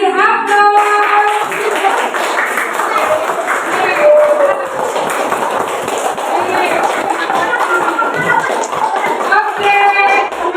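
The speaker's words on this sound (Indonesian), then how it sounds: "Kita kasih aplaus." A class claps for a student group after it presents its handwritten copy of a Quranic surah, verses 1 to 8. The applause is steady and fairly loud for about ten seconds, with voices chattering throughout.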